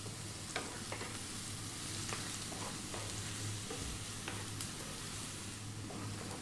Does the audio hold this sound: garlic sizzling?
yes